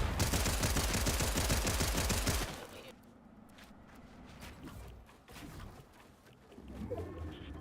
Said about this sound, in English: We hear some gunshots off to the east.